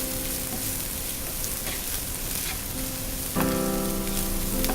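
Cumin powder, chili powder and garam masala sizzle and fry in a hot pan with green chillies for chicken podimas, a steady close crackle under occasional stirring that grows louder and brighter near the end.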